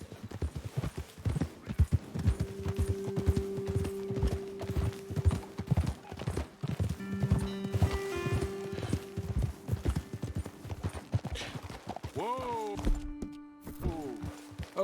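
Hooves clip-clop steadily as horses are ridden in Red Dead Redemption 2, a brisk loud rhythm running throughout over sustained game music, with a horse's whinny near the end.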